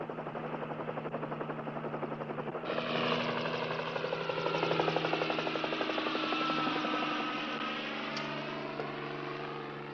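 A helicopter drones steadily overhead near a mountain ranger station, rotor thump and engine whine growing louder after a few seconds, then holding constant with no talk.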